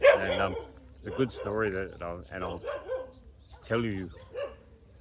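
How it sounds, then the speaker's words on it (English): Dogs bark at a large dog rescue center in Pattaya while someone talks over them close by, the barking partly masked under his speech. "as you can hear that dog barking in the background"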